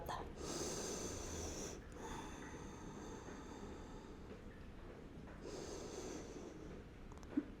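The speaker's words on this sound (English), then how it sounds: "Take a big breath" Slow, deep breaths during a yoga stretch rush in and out in long, airy waves, close and audible, each inhale and exhale lasting a few seconds.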